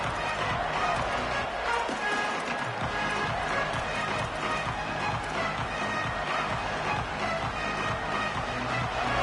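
Dense stadium crowd roar from a college football video game, Ohio State against Kansas State, filling the whole stretch as a steady, loud wash of massed voices with a faint rhythmic stamping under it.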